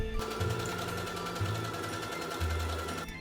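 Sewing machine running in several rapid bursts as it stitches lace trim onto striped red dress fabric, a steady close mechanical whir with a faint hum underneath, no voices.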